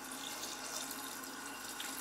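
Fresh tap water runs steadily into a cooking pot of soaked chickpeas in a kitchen, a constant close rushing splash with no pauses and no talking.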